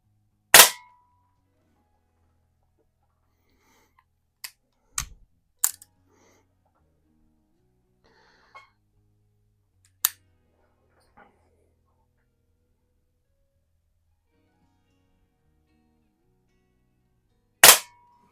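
A Rohm Twinmaster Match CO2 air pistol fires sharp, isolated shots at irregular intervals, a few loud cracks separated by quieter clicks and near silence.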